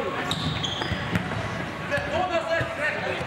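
During a basketball game, a ball is bounced on the court while a player dribbles it into play. Sharp bounces come at irregular intervals under steady commentary and arena noise.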